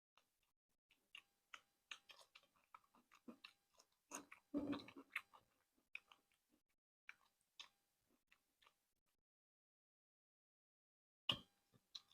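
Eating chicken bhuna khichuri with spicy chicken curry and egg omelet, heard as soft, close, sporadic chewing and crunching clicks with a denser cluster of mouth sounds midway and long quiet gaps.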